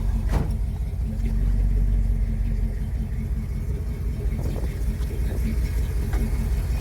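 A 1972 Buick Skylark Sun Coupe with a 396 big block and Turbo 400 transmission drives along, its engine a steady low rumble heard from inside the car, with a few faint knocks and clicks and no talking.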